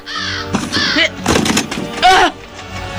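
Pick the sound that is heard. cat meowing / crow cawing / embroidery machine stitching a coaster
crow cawing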